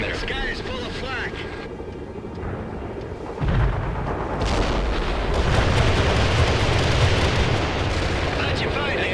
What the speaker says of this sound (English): The sky is full of flak.